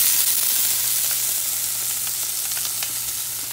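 Bacon fries in a pan with a loud, steady, close sizzle and hiss that fills the whole moment without pause.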